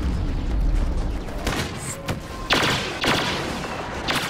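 Bursts of blaster fire from an EE-3 burst blaster in a Star Wars video game, several sharp clusters of shots spaced a second or so apart over a steady battle din with booms.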